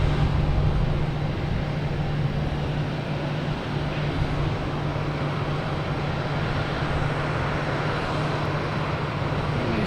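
A jet airliner roars at Boston Logan Airport, a loud, continuous engine rumble with a steady hum, heard from nearby and holding for the full stretch.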